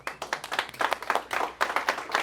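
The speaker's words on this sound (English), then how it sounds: "Clap it up for Jose" A small group claps in quick, uneven bursts for a couple of seconds, with no talking.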